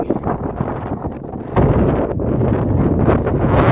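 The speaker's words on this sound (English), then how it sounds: "Pretty windy as you can hear." Strong wind on an exposed mountain summit in New Hampshire buffets the microphone in loud, roaring gusts that intensify partway through and stay heavy to the end.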